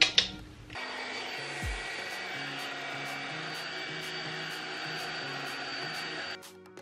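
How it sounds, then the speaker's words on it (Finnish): A hair dryer blow-drying sectioned hair with a round brush, a steady loud broadband whoosh running for about six seconds after a brief start, with faint brushing clicks over the top and no talk. "Ja mä föönaan hiukset osissa."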